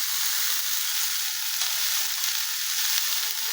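Potato masala for Guntur Karam dosa sautéing in a pan, a soft steady hiss of frying with faint stirring, even and unbroken.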